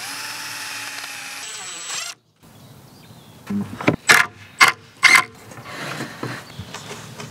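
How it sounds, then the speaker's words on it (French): Drill driving screws into a birch plywood vanity cabinet, with a steady motor whine that cuts off, then several short loud bursts of the driver spinning. "là je vais visser par l'extérieur"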